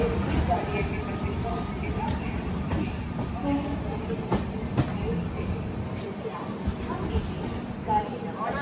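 Trivandrum–Jammu Rajdhani Express standing or moving slowly at Karwar station in the morning, a steady low rumble of rail and carriage noise with faint clicks and station bustle, voices murmuring underneath.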